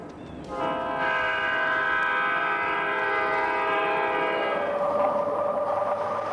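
A train horn blares in long, steady tones over the rumble of a train approaching a crossing, loud and close, sounding continuously throughout.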